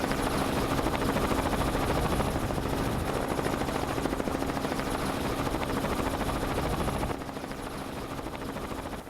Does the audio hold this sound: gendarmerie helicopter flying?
yes